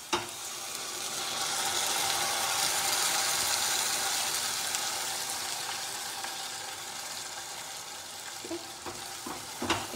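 A blended corn mixture is stirred in a hot cooking pan, a broad steady sizzle and wet stirring swell close and loud, with a few scraping clicks near the end and no talk.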